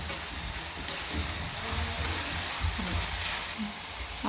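Onion sautés in hot oil for a Maharashtrian brinjal bharit, giving a soft, steady sizzle and hiss throughout, with faint scraping underneath.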